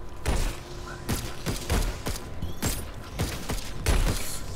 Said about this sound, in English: Plasma shotgun.